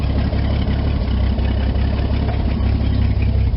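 Engine of a 1979 Ford F-100 Custom fitted with a swapped Chinese carburetor idles steadily, a loud, even low rumble with a faint regular knock, close up and with no talking.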